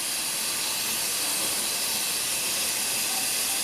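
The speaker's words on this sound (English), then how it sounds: "We have a blow down valve and it just empties it all out." Steady, loud broadband hiss of a steam locomotive's blow-down valve venting on the Walt Disney World Railroad, heard up close and continuous throughout with no talking.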